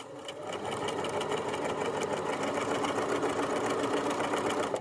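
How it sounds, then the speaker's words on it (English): A sewing machine stitches the bottom seam of a drawstring backpack, a close, steady whirring hum that runs unbroken for several seconds with no voices. "I'll just sew this whole bottom"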